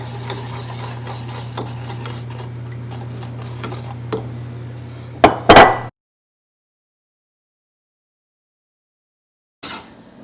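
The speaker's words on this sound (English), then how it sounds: "I changed to a spoon now because it's a little bit harder to mix with that wire whisk" A spoon stirs thick mint brownie batter in a bowl, producing a soft continuous scraping under a steady hum and a few clinks. A brief louder knock follows, then silence and one last short scrape.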